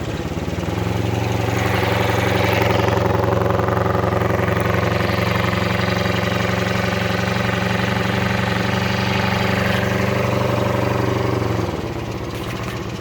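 A cold 750 motorcycle engine with its choke on idles steadily and loud up close, a constant low throbbing drone that holds for about twelve seconds before dropping off.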